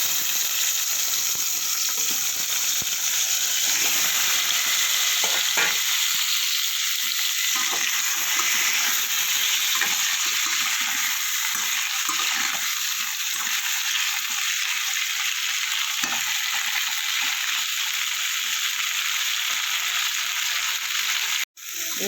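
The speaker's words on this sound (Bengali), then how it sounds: "এবার দেবো এঁচোড়টা ভালো করে ভেজে নেব।" Young jackfruit fries in a pan for a jackfruit and prawn curry, a steady close sizzle of hot oil with occasional stirring scrapes, continuing alone without talk.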